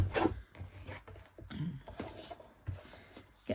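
Scissors trim about a quarter inch off a stack of paper for a no-sew journal, giving a few close, brief crisp snips and rustles with short pauses between them.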